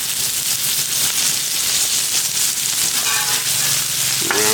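Chicken fried steak sizzles steadily in oil on a Blackstone griddle, a close, continuous frying hiss throughout with a brief scrape of a spatula near the end.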